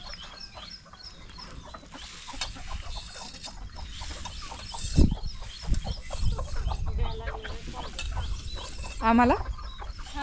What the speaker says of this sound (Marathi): कोंबड्यासने आणलं खायला सकाळ सकाळ.